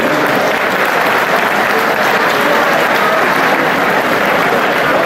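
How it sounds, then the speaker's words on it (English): An audience at a hockey tournament opening ceremony gives a panel a thick, sustained round of applause, loud and even throughout without letup. "Give a big round of applause to our panel who came up here sharing some of their insights to you"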